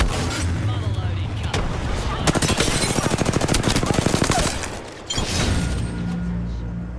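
Gunfire in the Apex Legends video game: loud, close bursts of rapid automatic shots with a dense rattling run in the middle, a brief dip, then more firing under a game voice.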